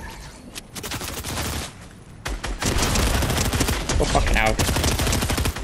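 Fortnite video game gunfire aimed at the player, a heavy barrage of rapid shots that pauses briefly and then resumes louder and almost nonstop, with a man swearing over it.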